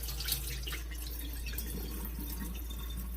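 Dal is rinsed in water: a continuous close splashing and trickling with small drips and swishes, steady throughout under a low hum, with no talk.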